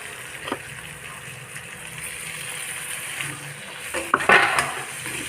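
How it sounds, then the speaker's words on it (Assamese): Soft sizzling of paneer, carrot and capsicum frying in a pan with occasional stirring scrapes and a burst of clattering near the end. "গাজৰ আৰু কেপচিকাম কেইডোখৰ ভাজি লোৱাৰ পিছত এতিয়া ইয়াত পনীৰখিনি দিব হৈ গৈছে"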